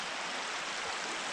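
A river rushes in a steady, broadband wash beside a quiet campsite on the Cape Wrath Trail, continuous and fairly close with no voices.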